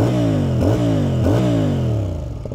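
CFMoto 450CL-C motorcycle with a twin-branch exhaust revs loud and close, its engine note swooping up and down twice in quick blips before settling into a steady idle.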